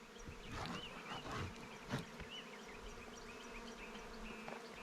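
Honeybees buzz steadily around an opened hive during messy maintenance as excess comb is scraped off, a dense close swarm drone with individual bees whizzing past near and far.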